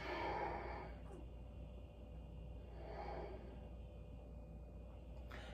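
Deep inhales and exhales during a floor workout with sock sliders, two slow breathy swells of air a few seconds apart, soft and close in a quiet room.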